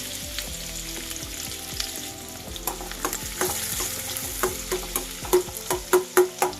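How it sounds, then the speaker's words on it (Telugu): Chopped onions and green chillies fry and sizzle in a pan for an aloo masala curry, a steady crackling hiss with stirring scrapes that grow into louder rhythmic pulses near the end, with no talk. "ఉల్లిపాయలు మరీ దోరగా ఫ్రై అవ్వాల్సిన అవసరం లేదండి కాస్త మెత్తబడితే సరిపోతుంది"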